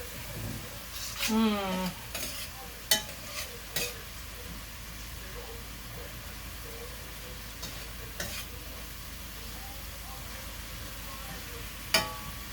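Beef sautés in a hot pan for a braised beef dish, giving a steady close sizzle with occasional scrapes and utensil clinks against the pan.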